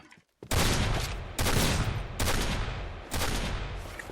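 Four loud, close sniper-mode gunshots in the video game Point Blank, spaced about a second apart, each with a short decaying tail and no voices.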